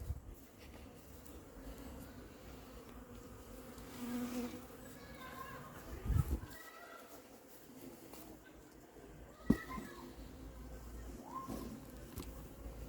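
Honeybees from a swarm of Varennes-Jarcy being moved into a hive, a faint, continuous buzzing with a few knocks and handling sounds, and a voice speaking intermittently.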